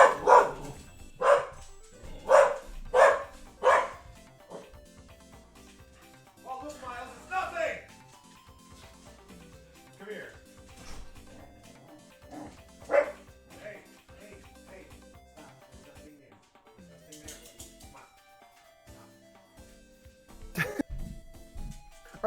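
A dog barks at the door in a burst of four or five loud, close barks, then gives scattered yips and a final sharp bark, with people talking in between.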